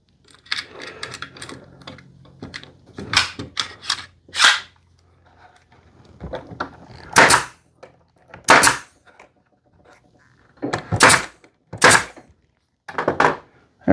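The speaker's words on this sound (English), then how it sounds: "it helps if you have nails in your gun" A nail gun drives nails into a wooden holiday planter box, giving sharp, close pneumatic cracks scattered irregularly among softer knocks and handling thuds of the wood.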